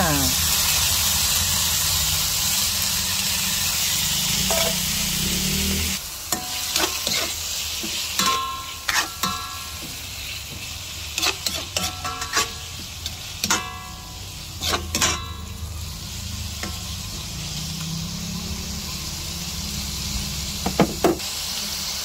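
Minced pork and sliced bitter gourd drop into hot oil with a loud, steady sizzle, then spatula scrapes and clanks against the pan come in bursts over the continuing fry.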